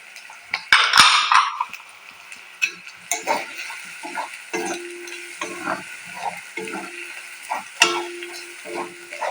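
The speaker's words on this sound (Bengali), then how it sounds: "সামান্য একটু ভাজা ভাজা করার পরে দিয়ে দেব সমস্ত মশলাগুলো" Spices frying in a pan for egg devil, with a steady sizzle broken by repeated stirring scrapes and clinks of a metal spoon against the pan, close and fairly loud, no talking.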